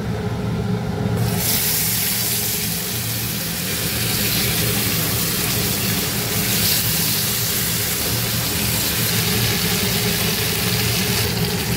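Marinated chicken leg pieces for tandoori chicken hit hot oil and ghee in a pan, setting off a loud, dense, continuous sizzle that stays steady close by.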